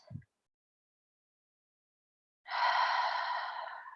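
Deep exhale during a yoga bridge pose, a single breathy sigh arriving after a short silence, close and soft, preceded by a faint brief breath.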